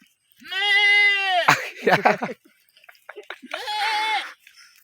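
A man mimics goat bleats closely: a long, loud, quavering bleat, a burst of rougher vocal sounds, and then a second, shorter bleat, all close to the recorder.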